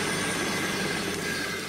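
A steady, dense whir of a helicopter buzzing away fills the clip at an even, fairly loud level.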